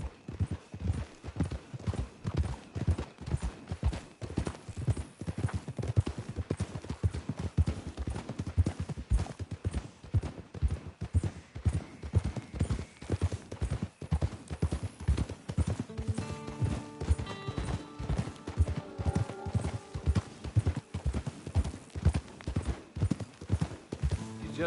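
Horse hooves clip-clop in a steady, loud, even rhythm through the Red Dead Redemption 2 game world, with faint music entering toward the end and no talk.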